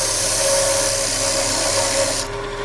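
Wood lathe spinning as a gouge cuts a wooden snowman ornament, a loud steady whirring hum with a constant scraping hiss that drops away near the end, no talk.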